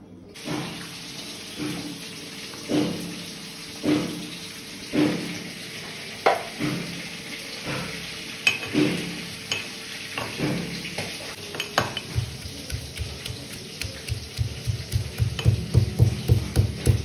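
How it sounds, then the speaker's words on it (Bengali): Fish frying in a hot pan give off sizzling and spattering, with spaced clatters and scrapes of pieces being placed and turned, the sizzle building denser and louder toward the end. "অ্যান্ড এবার বাকি মাছগুলোকেও দিয়ে দেবো, ভেজে নিতে হবে।"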